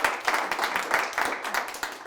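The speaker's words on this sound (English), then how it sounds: "to hear you clap" An audience claps together at a book launch event, a dense burst of applause with pulsing rhythm, fairly close and sustained for a couple of seconds.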